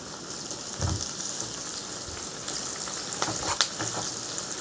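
Curry leaves sizzling and crackling in hot oil in a pan, a steady close frying hiss with sharp pops scattered throughout, no voices.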